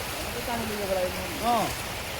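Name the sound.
floodwater rushing through a field after a dam broke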